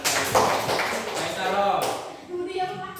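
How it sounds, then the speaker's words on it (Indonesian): Students in a school religious-education class clap their hands together in a dense, continuous patter, with voices talking over it in the room. "Tepuk tangan"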